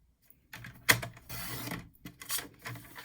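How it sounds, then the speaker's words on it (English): Paper trimmer slicing mint macaron cardstock in two, a sharp mechanical crunch and slide near the mic, then rubbing paper sounds, with no talking. "Get out my trusty paper trimmer"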